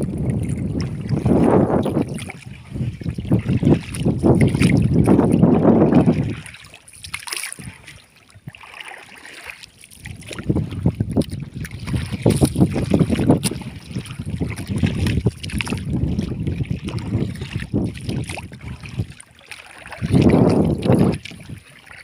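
Gusty wind rumbling across open water, heard from a boat, surging in strong blasts then easing briefly, with a low roar throughout and no voices.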